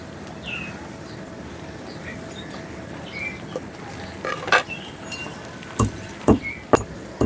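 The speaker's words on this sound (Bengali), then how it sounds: "আমি ততক্ষণ ভেজে রাখা মশলাগুলো কুটে নিই" Roasted spices are coarsely chopped with a knife, heard as a handful of sharp, close knocks clustered toward the end after a quiet stretch of low room noise.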